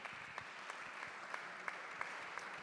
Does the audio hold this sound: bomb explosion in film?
no